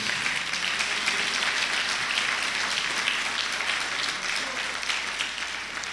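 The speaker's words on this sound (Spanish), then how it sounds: "Dele un fuerte aplauso al Señor" Congregation at a church service applauding, steady continuous clapping at moderate level throughout, tapering slightly at the end over a low hum.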